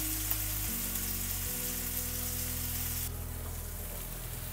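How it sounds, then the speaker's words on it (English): Large prosciutto-wrapped shrimp fry in a hot pan, giving a steady, close sizzle that carries on unbroken and eases slightly toward the end, with a low hum beneath it. "We're gonna let these go for about 2 minutes each side since they are pretty large shrimp."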